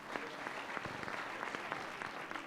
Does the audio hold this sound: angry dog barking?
no